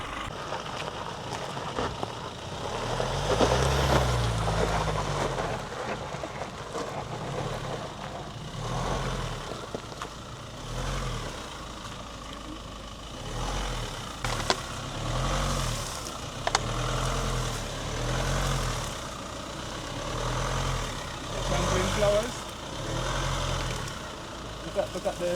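An Automotive Relay R8 car engine working hard as the car climbs an off-road slope, a steady low rumble that swells and dips with throttle for the whole stretch, with people talking over it.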